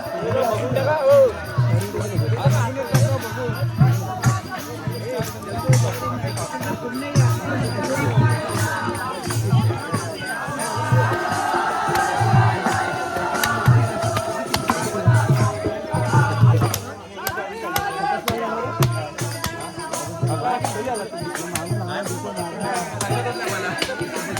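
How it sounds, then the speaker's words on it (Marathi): A festive crowd at a night-time Holi celebration at a village border, with a steady babble of voices, thumping rhythmic music and cheering throughout, while people talk nearby. "खूप मस्त वातावरण, गाणी वगैरे होतात आणि खूप जल्लोष असतो"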